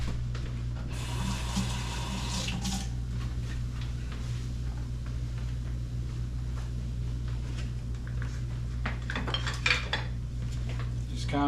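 Meat stirred in a warming pan for a quick Monday stir fry, with steady sizzling and scraping, clinks of a utensil against the pan and some clattering, close up, with no talking.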